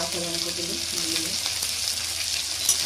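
Fish and cauliflower curry sautéing in a pan, salted and spiced, with a loud steady sizzle and stirring scrapes close by, no talk over it.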